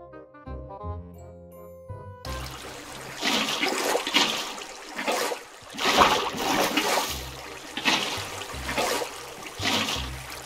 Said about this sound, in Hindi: सारे के सारे मुझे इस तरीके से बस सब पर पानी डालना है